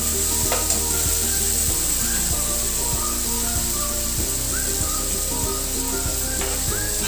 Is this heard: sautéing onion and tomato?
yes